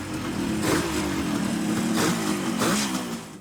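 A 1969-era Kawasaki Mach III H1500 two-stroke triple motorcycle engine runs steadily, loud and near, with a continuous buzzing drone and a few brief swells of revving.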